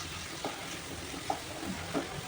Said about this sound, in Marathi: 2 मिनटं छान परतून घेऊया.